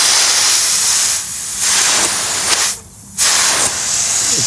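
A garden hose reel's nine-pattern nozzle sprays water in a steady loud hiss. It briefly dips twice as the pattern is twisted, then resumes at full force, with no talk.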